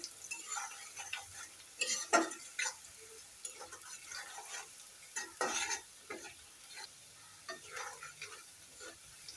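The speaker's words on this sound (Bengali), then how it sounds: "চিংড়ি মাছগুলোকে পেঁয়াজগুলোকে লাল লাল করে ভেজে নেব বেরেস্তার মতন করে" Sliced onions and salt-and-turmeric-coated shrimp frying in oil, a soft background sizzle broken by intermittent scraping stirs of a spatula in the pan, faint and without talking.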